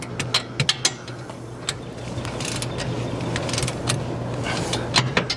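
A wrench torquing the U-bolts on a Montana fifth-wheel trailer to factory spec, about 75 foot-pounds, gives several sharp ratcheting clicks near the start and end over a steady low hum, close by and fairly loud.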